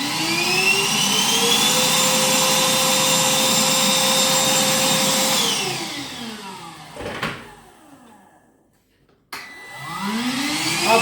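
A Parkside PWDA 20 Li A2 cordless wet and dry vacuum runs with a loud, steady whine, winds down to near silence, then spins back up with a rising whir.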